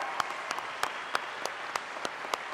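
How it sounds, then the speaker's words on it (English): A small group claps at a change of command ceremony, a thin scattering of distinct hand claps at an uneven rhythm, fairly quiet and close. "Give her a big round of applause."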